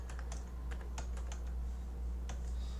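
Soft typing on a computer keyboard in the Notion app, including presses of the tab key to indent list items, a handful of light, scattered clicks at low level over a steady low hum.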